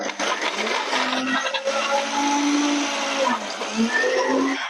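A food processor whirs loudly and steadily chopping an onion, its motor pitch wavering slightly as the blades chop, with no talking.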